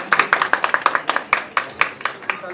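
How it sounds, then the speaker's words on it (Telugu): Sharp hand claps from a small group at a tribal heritage centre inauguration in Vanjangi, arriving in an irregular string of close, bright bursts with no talk over them. "క్లాప్"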